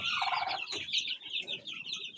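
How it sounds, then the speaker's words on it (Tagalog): Sixty-eight backyard chicks of different ages, some around 17 to 19 days old, make a dense chorus of high peeping and cheeping, close and continuous with a few lower clucks mixed in. "Ito po yung lahat ng sisiw natin na 68 na sisiw na magkakaiba edad."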